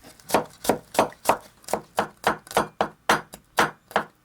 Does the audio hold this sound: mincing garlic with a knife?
yes